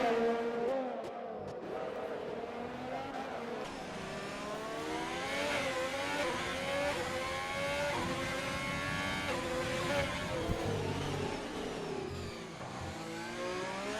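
Racing cars in an online sim racing league event at the Azerbaijan circuit whine and rev through the gears, engine pitch sweeping up and down steadily, with several cars heard close together under a continuous drone.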